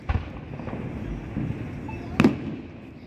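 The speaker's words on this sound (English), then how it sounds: "These fireworks are so big." Fourth of July fireworks go off at a distance. A low, rumbling, crackly wash of bursts builds, and one sharper, louder explosion comes near the end, with no talk.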